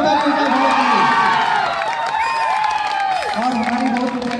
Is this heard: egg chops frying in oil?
no